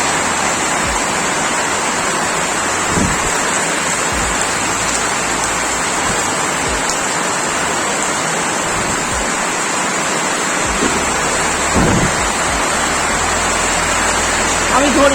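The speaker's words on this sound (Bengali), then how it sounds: "এই বৃষ্টি আসলো।" Rain pours down in a steady, loud, continuous wash of hiss and patter, with a few dull low thumps beneath it.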